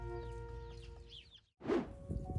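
Soft clucking from a bantam hen and chirpy bird calls over a hum, a brief pause, then a short rustling burst; faint and close.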